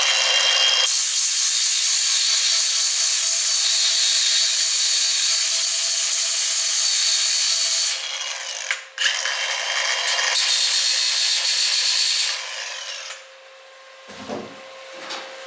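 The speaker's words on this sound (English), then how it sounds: "Just let me sand that little nick off there." Sanding a small nick off the drip rail of a 1966 Ford Mustang, a steady loud power-sander whir running nearly continuously, briefly dipping near the end before tapering into quieter rubbing.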